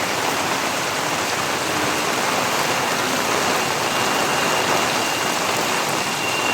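Torrential rain of Typhoon Kristine lashes down in Camarines Norte, a loud, unbroken hiss of drops pounding surfaces nearby, constant for the whole stretch.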